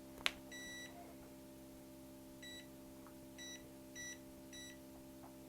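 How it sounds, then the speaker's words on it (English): A sharp click, then a series of short electronic beeps in uneven bursts, fairly quiet over a low steady hum. "it beeped like a time bomb going off"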